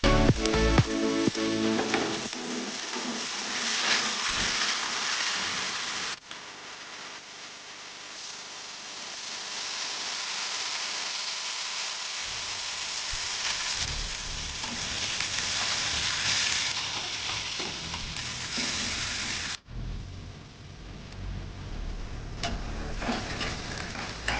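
Bay leaf, raw onion, hot chili and garlic fry in a wok with steady, loud sizzling and crackling throughout, briefly cut off twice before resuming.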